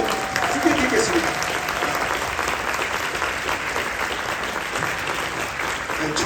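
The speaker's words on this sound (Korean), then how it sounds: "박수 한번 부탁드리겠습니다." An audience at a church seminar claps steadily and warmly, a dense wash of applause that holds for several seconds at an even level.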